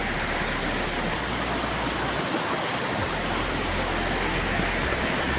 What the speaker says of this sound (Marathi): आणि अतिशय पाण्याचा आवाज देखील बघा कसा येतो.